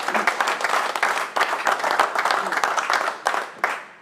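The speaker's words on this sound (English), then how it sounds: "you ought to give yourselves a round of applause" An audience at a company headquarters event in Chester breaks into a round of applause, with loud, dense, rhythmic clapping that swells and dips in waves before tailing off at the end.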